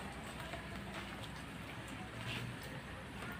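Continuous patter of rain falling on a surface, a dense even hiss with no other prominent sounds.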